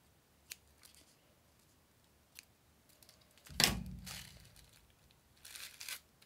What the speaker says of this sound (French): Je prends mon ciseau, je coupe le bout